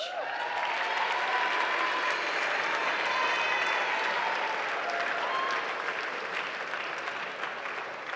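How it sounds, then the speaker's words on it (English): Steady applause from a large audience at a school yearbook dedication ceremony fills the room, a dense continuous clapping that holds throughout with faint cheering underneath. "Please also give a big round of applause to the yearbook staff here up on stage."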